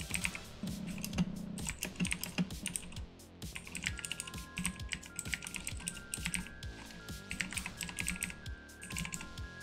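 Rapid, continuous typing on a computer keyboard while playing the word-typing game The Textorcist: brisk clicky keystrokes close up, with faint game tones running underneath.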